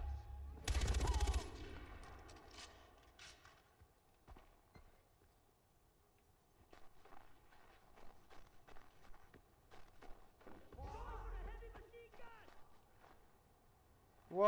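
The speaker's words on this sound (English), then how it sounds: "What? Heavy machine guns?" Heavy machine gun fire in the video game Far Cry 4: two loud, rapid bursts several seconds apart, separated by quieter clicks and shuffling, with a voice speaking in between.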